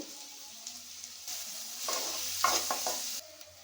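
Onion pieces with a pinch of turmeric fry in a pan for spinach fry, a soft, fairly quiet sizzle that swells midway with a few spoon scrapes and stirring taps, then settles.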